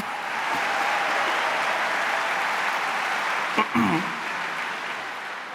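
Steady audience applause fills a large ceremony hall at a national awards event, a dense even patter that holds for several seconds before tapering slightly, with a brief voice or bump near the end.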